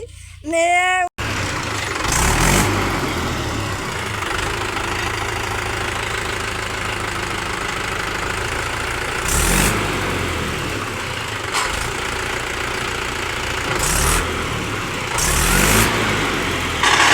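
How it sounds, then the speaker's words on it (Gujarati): A tractor engine runs steadily in a farm field while the tractor is stuck, with a few louder revving surges as it strains, after a brief clatter at the start. "ટ્રેક્ટર તો જોરદાર ફસાવી રહ્યા છે"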